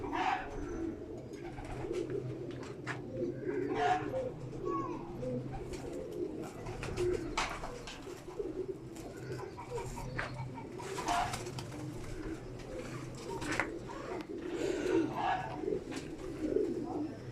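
Kamagar-breed pigeons coo in a loft, soft repeated murmuring calls layered over a low background hum, with faint clicks and rustling throughout.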